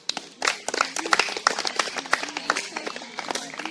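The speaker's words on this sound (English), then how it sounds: "Give yourself a round of applause." Small group of youth football players clapping after a pre-game team talk, a scattered burst of sharp, uneven hand claps close by with some voices mixed in.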